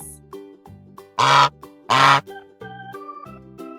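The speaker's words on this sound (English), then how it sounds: "Goose," Two loud, harsh goose honks ring out about a second apart over a soft, steady musical backing.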